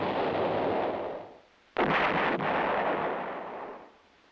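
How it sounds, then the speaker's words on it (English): Heavy boom of an M107 self-propelled 8-inch howitzer firing, a broad blast that dies away, cut off by a second sharp, loud report that rolls out and fades over a few seconds. "The self-propelled 8-inch howitzer M107 employs the same tube as the towed weapon."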